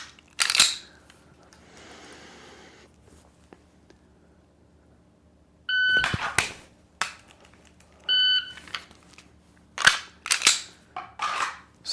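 Dry-fire trigger clicks from an unloaded carry-optics pistol during Steel Challenge practice: several sharp, close, isolated clicks spread across the clip, with two short electronic beeps between them and no talking.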